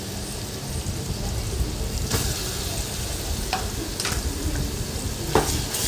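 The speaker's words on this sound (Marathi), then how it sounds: "आता हे वाटण आपण केलेलं आहे कांदा खोबऱ्याचं ते त्याच्यामध्ये टाकूया तेलामध्ये" Onion-coconut paste frying in hot oil for an egg curry, a dense continuous sizzle with a few sharper spatters and occasional spoon scrapes, close and steady.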